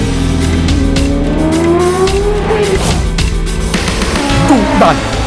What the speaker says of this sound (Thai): คำรามกึกก้องด้วยท่อไอเสียแบบรถปอตเราใจทุกครั้งที่บิดเร่ง